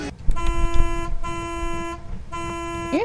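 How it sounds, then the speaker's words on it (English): Car horn honking in the Fortnite video game, a steady tonal blare that sounds in two long blasts with a brief gap between them, loud and up close over low game background noise. "You honking at me?"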